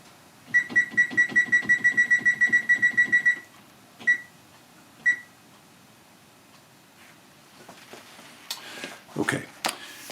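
Oven timer being set for fish, giving a rapid run of about a dozen evenly spaced beeps, then two single beeps, followed by faint handling clatter.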